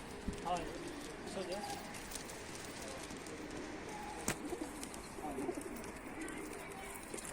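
Pigeons, including tumbler pigeons on their first flights, coo softly in the distance amid outdoor ambience, with a few fluttery bird sounds and voices nearby.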